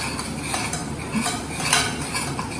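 A spoon stirs a corn flour mixture to work out the lumps, making soft, continuous scraping and light clinking against the dish, fairly quiet, with no talking.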